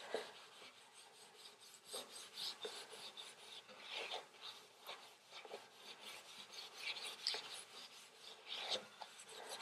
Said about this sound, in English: I'm going to use a lint-free cloth to apply it